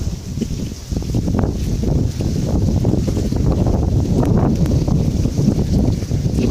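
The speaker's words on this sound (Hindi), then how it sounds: "बहुत तेज़ हवा चल रही है" Strong wind in a village rainstorm roars steadily against the microphone, a loud continuous rumble with gusty low buffeting throughout and no voices.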